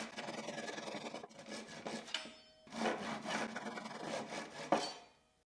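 A hand saw cuts a glued 10 mm wooden dowel flush with the surface, giving a few close rasping strokes with short breaks before stopping.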